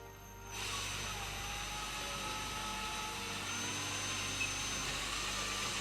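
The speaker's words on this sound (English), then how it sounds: "So we're gonna back that out and finish that hole with the smaller bit." A power drill with a smaller bit whirs into drywall to finish a hole, starting abruptly and then holding a steady, high motor whine until the end.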